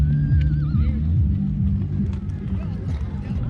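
Horses neigh and whinny at the Naadam festival grasslands in Xilinhot, Inner Mongolia, with a wavering call near the start, some hoof clip-clop and a murmur of crowd voices around them.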